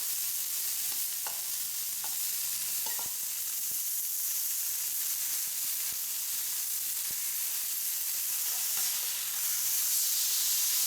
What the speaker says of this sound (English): It's really sizzling.